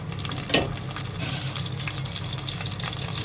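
Coconut oil heating in a clay pot gives a steady sizzle with a faint watery hiss and one brief clatter, close by and without talk.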